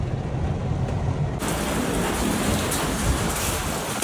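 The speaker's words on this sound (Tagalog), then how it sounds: "Biglang ulan, no?" Sudden heavy rain pours down outdoors in a dense, steady hiss of drops hitting surfaces, loud and close, keeping up for the whole stretch with no voices.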